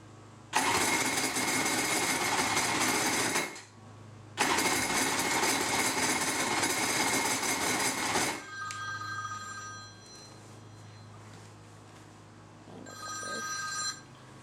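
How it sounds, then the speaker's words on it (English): A 1995 Polaris SLX 780 jet ski engine cranks over in two long, loud bursts of buzzing starter-motor whir separated by a short pause, followed by quieter tonal whine and low background noise. "we're going to crank it over and see if it pulls fuel into the fuel filter and the fuel separator"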